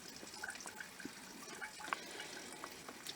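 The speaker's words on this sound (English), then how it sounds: "Drain all the water out, turn the taps on" Water runs and trickles from opened taps inside a caravan as the system drains, a soft continuous flow with faint drips, quiet and close with no voices.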